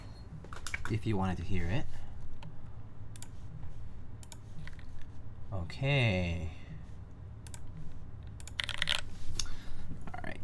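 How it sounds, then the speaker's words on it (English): Typing on an EXENT keyboard built with 60 gram Gateron Slate linear switches. Soft, quick key clicks patter steadily beneath a man's speech. "you're here just in time for the typing test."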